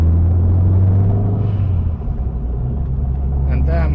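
A tuned 2004 Saab 9-5 Aero turbo engine making over 400 horsepower runs with a loud, steady low rumble, the revs dipping briefly midway while a person talks over it.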